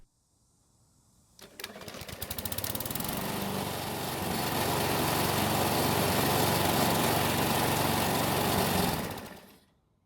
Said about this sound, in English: Let's see how it starts back up.